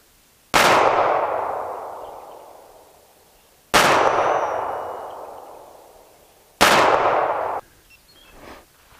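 Three loud, sharp Kahr P380 pistol shots, evenly spaced about three seconds apart, each with a ringing decay outdoors and no other sound between them.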